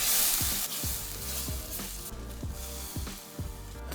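Ginger garlic paste and green chili sizzle in a pan, a soft, steady fry broken by regular stirring scrapes roughly twice a second.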